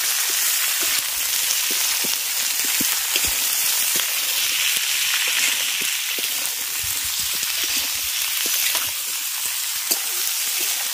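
Winter vegetables fry with tempering spices in a pan, a loud, steady close sizzle and crackle running throughout, with occasional stirring scrapes and pops.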